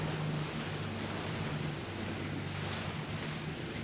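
A Volvo Ocean Race 2011-12 racing sailboat punches through big ocean waves at the start of Leg 2, with a steady wash of surf and water rushing alongside, and wind buffeting the microphone throughout.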